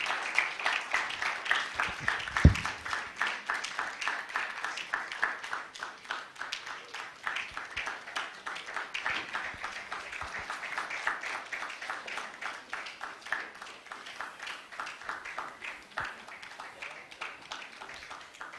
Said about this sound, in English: Let's keep clapping till they get down.